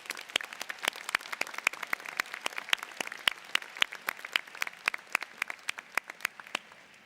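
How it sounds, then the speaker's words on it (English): Audience applause at the Northwestern Pritzker School of Law Class of 2025 convocation, heard as a scattered, crisp patter of individual claps from a modest crowd, continuing evenly for about seven seconds. "Let's give them another round of applause."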